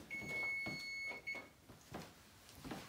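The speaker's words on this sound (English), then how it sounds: "that's my timer going off" Kitchen timer going off in a home kitchen during baking, a thin high electronic tone sounding for about a second and then breaking off, quiet and fairly close, with soft handling noises afterward.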